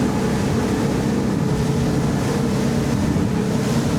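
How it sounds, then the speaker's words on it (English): Loud, continuous engine roar of a Wellcraft 28 T-Top motorboat accelerating out to sea, mixed with rushing water and wind buffeting, holding steady throughout without any talking. "And now let's accelerate and head out to sea a bit."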